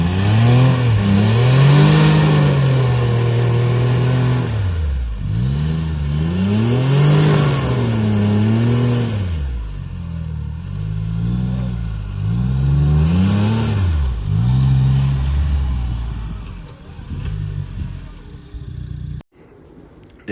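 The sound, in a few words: CFMOTO U10 Pro UTV engine revving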